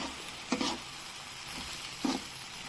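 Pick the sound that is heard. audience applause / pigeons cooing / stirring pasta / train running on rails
stirring pasta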